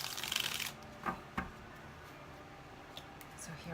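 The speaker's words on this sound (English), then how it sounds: "I do have to shuffle the cards" Tarot cards riffle in a dense, crisp burst of shuffling that fades into a few soft taps and card clicks against quiet room noise.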